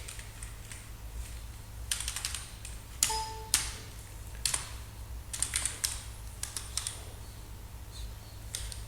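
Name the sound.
typing on a computer keyboard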